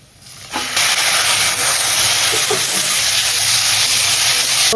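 Raw chicken pieces hit hot sautéed onions in a pan for a spicy Maharashtrian green chilli thecha chicken, setting off a loud, steady broadband sizzle that surges in after a quiet start and holds strong throughout.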